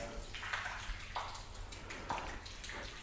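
Rinse water sheets and trickles off the freshly waxed body of a car drying itself outdoors, a steady soft splashing with a few brighter drips, fairly faint and with no voices.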